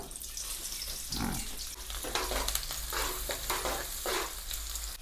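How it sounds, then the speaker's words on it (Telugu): Chopped onions fry in hot oil for an egg garlic curry cooked in village style, with a close, continuous sizzle, occasional stirring scrapes and faint water-like crackles. "ఇప్పుడు ఇదే ఆయిల్లోకి నేనైతే ఉల్లిగడ్డ కోసుకున్నా కదా ఆ ఉల్లిగడ్డ తీసేస్తాను"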